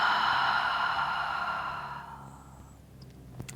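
A long, steady exhale during a yoga back-stretching exercise, a breathy, airy rush that fades out over about two seconds, followed by quiet room tone and a small click.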